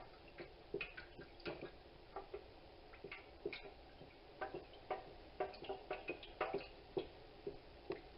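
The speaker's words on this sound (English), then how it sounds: "And now I'm going to stir it up." Melted wax for homemade sweet pea scented candles is stirred in a container, giving a steady run of soft, close clicks and taps from the utensil knocking against the sides, with no talking.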